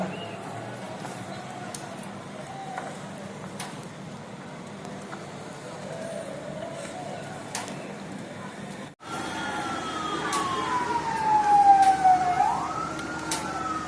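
Fire engine siren arriving at a restaurant fire in Dushanbe, faint and distant at first under street rumble, then a louder, nearer wail sweeping down in pitch after an abrupt break.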